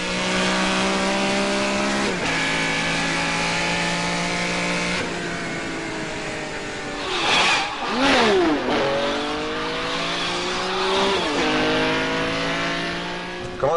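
A Ferrari driven hard through town streets, its engine roaring through repeated rising revs with quick gear changes and falling pitch between shifts, loud and close, with a brief tire squeal midway.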